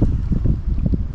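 Wind buffets a fishing boat out on the water during a predator-fish angling session, a steady low rumble of gusts hitting the microphone with no voices.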